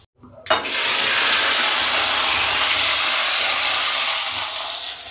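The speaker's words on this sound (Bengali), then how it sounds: "তেল ছিটে উঠছে" Hot mustard oil spattering in a home kitchen kadai while okra is being fried: after a brief quiet start, a loud, dense, continuous sizzling hiss that holds steady for several seconds, close and with no talking.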